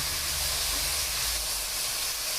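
Pork belly stir-fries over medium heat with a steady, dense hissing sizzle that stays even and close throughout, without speech.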